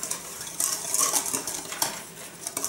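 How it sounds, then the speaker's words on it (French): Dry pancake ingredients, sugar among them, stirred in a bowl with a utensil, giving close, continuous scraping and clinking strokes in an even rhythm, with no talk. "Donc je mélange."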